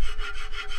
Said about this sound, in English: So here I am scraping the bottom with a spatula, just like Duffy was doing